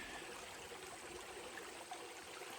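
Water flowing steadily through a sapphire fossicking sluice, a soft continuous rushing and trickling wash, faint and even with no talk.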